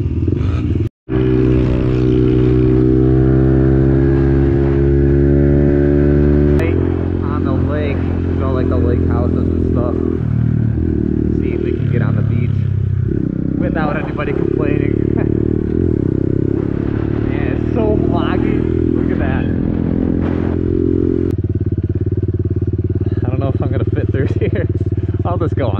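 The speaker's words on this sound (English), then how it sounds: "let the bike warm up" A pit bike engine runs continuously at a steady, loud idle, producing a rich buzzing drone with a brief cut near the start and slight revving shifts. Voices talk over it throughout.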